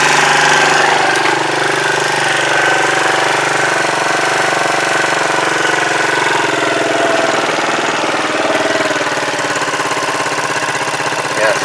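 A Zontes Tiger 125 motorcycle engine runs steadily at idle, loud and close, with a continuous rough mechanical chatter throughout and no talking.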